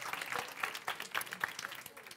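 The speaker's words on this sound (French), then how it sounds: "On peut leur donner une bonne main d'applaudissements." Audience clapping for the players at an improv match: a brief burst of scattered, uneven hand claps, moderately faint and somewhat distant, fading into a sparse patter.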